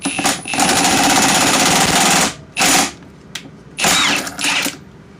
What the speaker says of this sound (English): my deep socket can reach the nut on the puller body better as the jack screw is tightened down